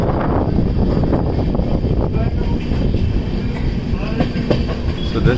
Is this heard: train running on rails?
yes